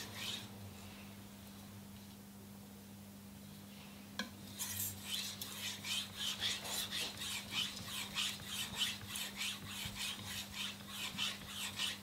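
A steel kitchen knife blade is drawn over a fine Shapton Kuromaku polishing whetstone, a soft rasping scrape repeating in even strokes after about four seconds of near quiet, close and moderately loud over a low hum.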